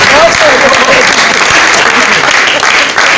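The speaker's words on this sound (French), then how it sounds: "Papa Kofi, est-ce qu'on peut applaudir bien fort?" An audience applauds loudly for Papa Kofi at a comedy awards event, with thick clapping filling the short stretch while a voice carries on over it.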